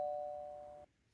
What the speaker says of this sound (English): I think that was my doorbell.